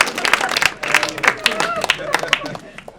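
A comedy club audience gives scattered, uneven clapping and applause, with sharp individual claps standing out amid crowd murmur and a voice speaking over it.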